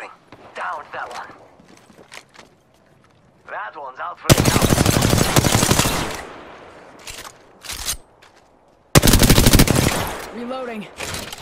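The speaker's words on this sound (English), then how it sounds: "Taking fire!" Machine gun fire in the battle royale game Apex Legends: two loud, rapid automatic bursts, each lasting about two seconds, with a few short single shots between them, close and dominant, with game voice lines in the gaps.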